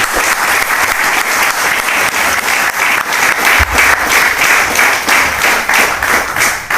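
A large seated audience at a motivational business seminar bursts into loud applause, a strong continuous wash of many hands clapping with rhythmic surges, close and filling the whole stretch.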